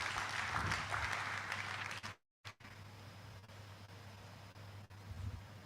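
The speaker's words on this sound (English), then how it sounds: "Please, another round of applause for him" Fairly quiet applause from an audience at an annual leadership lecture, a diffuse patter of clapping that drops out briefly and then carries on more softly.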